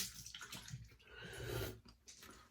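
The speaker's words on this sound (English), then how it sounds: "Let's go with a nice warm rinse." Warm tap water runs and splashes steadily into a sink for a post-shave rinse, fairly faint, with the flow briefly interrupted near the end.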